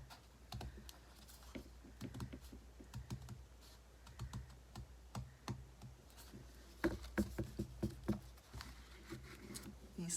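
Slightly dull scissors snipping through paper, a steady run of quick, crisp cuts close by, occasionally pausing and picking up again, with no talking.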